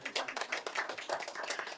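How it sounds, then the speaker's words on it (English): Brisk clapping at a city council executive session, a quick run of distinct, fairly close hand claps from a small group in a quiet room. "applause please"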